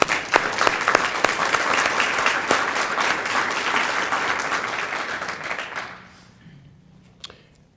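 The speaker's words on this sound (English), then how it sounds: "you all deserve a round of applause for what you've contributed." A crowd applauds steadily with dense clapping that tapers off, leaving a few scattered claps at the end.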